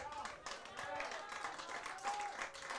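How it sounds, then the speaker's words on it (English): Crowd applause at a North Dakota 9-man high school football all-star game: faint, steady clapping from a distant crowd throughout, with an announcer talking over it. "a nice round of applause coming off Alex Weisenberger"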